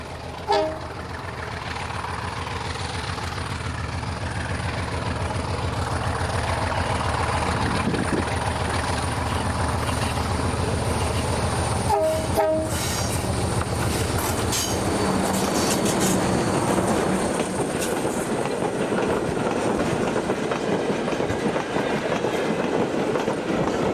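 Portuguese diesel locomotive 1805 rumbles past with a steady heavy engine drone and rolling wagon noise that builds and holds. Short horn blasts sound partway through, and wheels squeal faintly over the rails.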